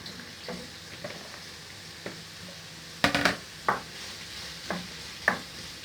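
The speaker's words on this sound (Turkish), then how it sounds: "Ben soğanı tam öldürmeyeceğim. O yüzden patatesimi de ekleyeceğim." Onions and potatoes fry in a pot under a soft background sizzle, with a string of sharp spoon knocks and scrapes against the metal, grouped near the middle.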